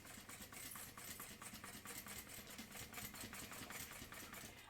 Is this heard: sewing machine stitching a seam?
yes